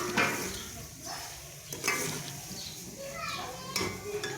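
Tomato, garlic and green chillies frying in masala for a chicken white chana dish, with soft sizzling and intermittent stirring scrapes against the pan, close and steady, with a voice speaking over it.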